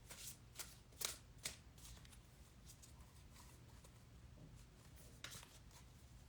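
A deck of tarot cards is shuffled nearby in several quick, crisp riffling bursts separated by short pauses, quiet and alone.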